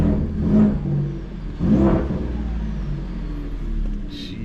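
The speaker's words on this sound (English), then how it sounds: "you can definitely hear it sucking in the air" A truck engine fitted with a new S&B air filter intake revs twice in close, loud surges with a whooshing intake rush, settling to a steady idle hum between and after.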